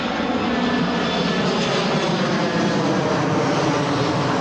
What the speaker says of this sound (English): Wait till the plane's gone.